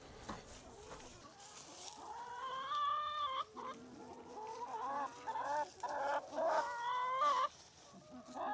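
Several chickens cluck and squawk nearby, their calls rising and overlapping in uneven bursts against a quiet outdoor background.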